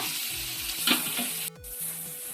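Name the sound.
onions added to hot pan and stirred, sizzling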